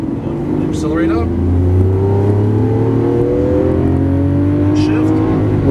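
A green 2012 Lamborghini Aventador accelerates hard on a Las Vegas race track, its engine note climbing steadily in a loud, sustained rising roar while an instructor speaks over it.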